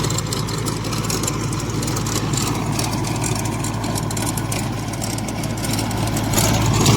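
A tractor engine runs while a cricket field is prepared for a village match, a loud, steady low rumble close by that stays even throughout and swells slightly at the end.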